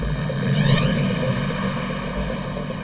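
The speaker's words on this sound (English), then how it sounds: "Police dispatch helicopters to search for the vehicle." A police helicopter searching for a getaway vehicle gives a loud, continuous droning engine roar overhead that holds steady throughout.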